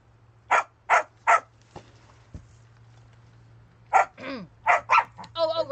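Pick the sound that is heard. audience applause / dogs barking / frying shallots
dogs barking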